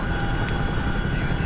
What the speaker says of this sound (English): Damn helicopters.